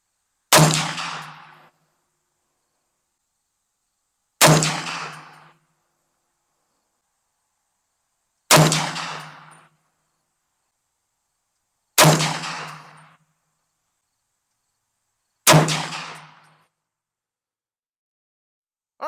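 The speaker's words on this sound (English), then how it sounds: "So let's shoot our first 5-shot group." Five rifle shots fired from a Caldwell Precision Turret shooting rest on a 100-yard range. Each loud report is followed by a ringing decay, and the shots come evenly spaced about four seconds apart.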